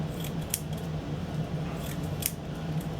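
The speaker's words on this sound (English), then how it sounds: "Once again, sharp scissors." Sharp scissors cutting triangles of material from a roll, giving a few crisp snips over a steady low hum, close and fairly quiet.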